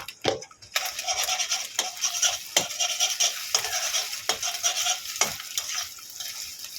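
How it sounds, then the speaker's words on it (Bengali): Beaten eggs frying in a pan in a home kitchen, a continuous bright sizzle broken by several sharp scraping strokes of a spatula, close and alone without talk. "দুটো ডিমকে ভালো করে ফাটিয়ে নিয়েছি ভেজে নেব ডিমগুলো"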